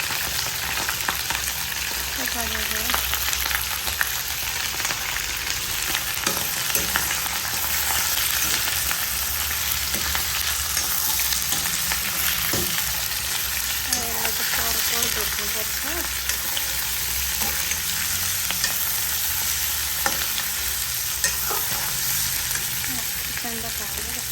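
Spicy goat meat fries in a pan with a steady hiss and sizzle, a constant close crackle occasionally stirred, while a voice speaks quietly over it.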